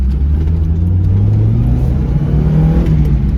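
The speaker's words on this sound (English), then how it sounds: "So if I wind first gear all the way up" A Mazda Miata engine revs up through first gear, a loud steady rumble with the pitch climbing gradually, close to the car with no talking.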